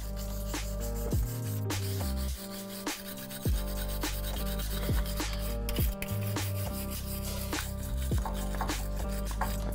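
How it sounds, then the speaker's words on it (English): Rusty brake calipers on a 1985 C10 pickup are scrubbed with a wire brush, producing repeated scratchy back-and-forth rasping strokes at a moderate level with short breaks between passes. "Wire brush anything that's loose on them off."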